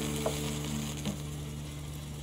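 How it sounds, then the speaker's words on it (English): Liquefied natural gas poured from a beaker onto water boils off with a faint, steady fizzing and sizzling, a few small crackles over a constant low hum. "the LNG is boiling off because the temperature of the water was a lot warmer"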